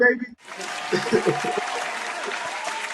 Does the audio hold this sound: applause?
yes